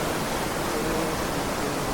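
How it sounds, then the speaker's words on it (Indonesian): The Cibentar river flows through forest in a steady, loud rush of water, a continuous broad hiss with no pauses, as though heard from close to the bank. "ini dia aliran sungai Cibentar yang semakin"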